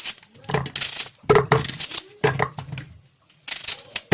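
Rapid, sharp chopping bursts from a food chopper cutting onion, coming in several short runs separated by brief pauses, loud and close.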